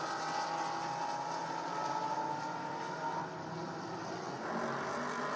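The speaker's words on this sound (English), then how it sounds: "that Maserati's a pretty car, and it sure sounds nice too" A Maserati GT race car at Circuit of the Americas in 2017 Pirelli World Challenge GTS racing drones steadily with a continuous engine note that holds at a constant level, then dips slightly as the tone shifts.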